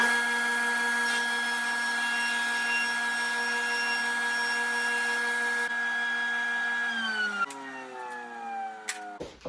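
A table saw runs at a high, steady whine while it rips all the way through a wooden rip-jig sled to make a zero-clearance edge. Near the end the blade spins down with a falling pitch, with a few knocks.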